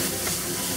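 Pork sizzling in hot sesame oil in a wok for Sichuan-style dry braised shrimp, a steady, loud, close hiss of frying with no talking.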